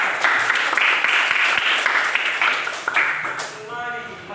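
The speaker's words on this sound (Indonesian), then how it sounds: "Betul, beri tepuk tangan." A classroom group claps together for several seconds at a church lesson, a dense steady patter that thins and fades toward the end.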